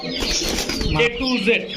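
A quick burst of flapping wings from young pigeons, with soft coos and chirps mixed in nearby.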